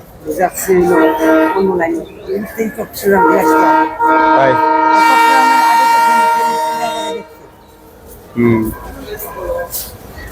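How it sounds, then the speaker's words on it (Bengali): A passenger train on a Bangladeshi line, likely bound for Gaibandha or Rangpur, sounds a long sustained horn blast as it passes close by, with rumbling running noise and voices talking over it before and after. "এখন ওই ওই ট্রেন কি গাইবান্ধা যাইবো না রংপুর এক্সপ্রেস"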